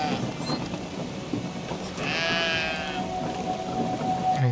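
Sheep bleat in the video game Brothers: A Tale of Two Sons, a wavering cry standing out over a steady outdoor ambience of rain-like hiss and low rumble, with no talking.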